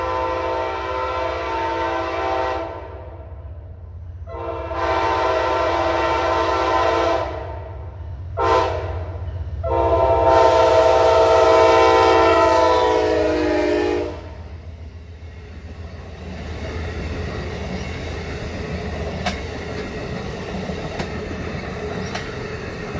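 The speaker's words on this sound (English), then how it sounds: "Amtrak train 138 Northeast Regional from Norfolk" An Amtrak Northeast Regional passenger train from Norfolk sounds several loud, long horn blasts as it approaches, then rumbles past with rolling wheel clatter that continues after the horn stops.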